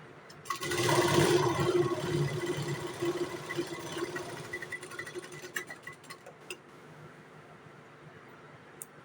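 A sewing machine stitches blouse fabric with a close, whirring mechanical run that peaks early, then slows into sparser stitching bursts before falling quiet.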